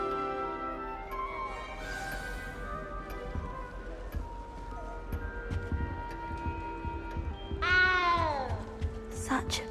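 A cat in the Hogwarts Legacy video game meows a few times, with a rising and falling cry near the end, set against the game's background ambience.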